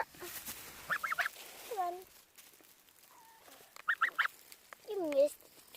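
Two farm geese being fed, giving bursts of honking and nasal calls in short clusters, close and clear, with a person speaking briefly among them.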